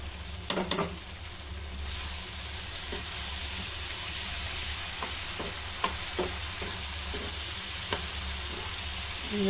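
Hilsa fish do pyaja in Cox's Bazar style being stirred in a pan after coriander leaves go in, with a continuous frying hiss, a few clinks of the spoon against the pan, and no talking.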